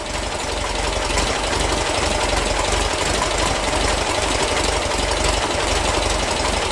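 Vintage car engine running roughly and unevenly at idle as the carburettor's mixture screw is turned, a steady close mechanical chugging with knocking vibration throughout and no talk.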